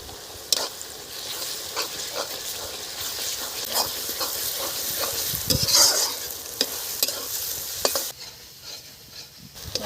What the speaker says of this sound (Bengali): পেঁয়াজ ভাজা হয়ে গেছে এখন আমি রসুন দিয়ে দিচ্ছি